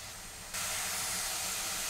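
Food sautéing in a pan over a high gas flame, a broad steady hiss that jumps suddenly louder after a moment and holds, close and without talk.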